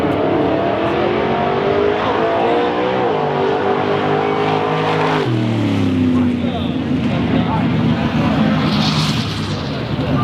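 A car holds a long burnout at the Hoonigan Burnyard, its engine revving hard with the pitch dropping and climbing again. The roar is loud and continuous throughout, with tire screech mixed in.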